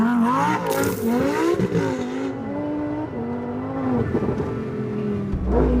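A 2023 Lamborghini Huracán Sterrato is driven, its engine revving up and down through shifting pitch with strong surges, heard loud and close from nearby.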